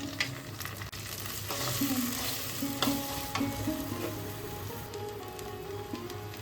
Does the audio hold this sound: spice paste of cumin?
yes